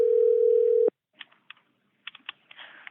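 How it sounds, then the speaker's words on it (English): A steady telephone line tone holds loud for almost a second, then cuts off sharply as the call is handed over to an operator. A few faint clicks and short electronic blips follow, with no talk. "You are being transferred to the operator."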